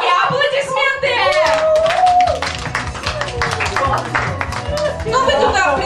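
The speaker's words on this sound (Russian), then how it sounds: "Аплодисменты!" A group of adults at a home birthday party game claps enthusiastically, a brisk burst of close applause mixed with cheerful talk and laughter over it.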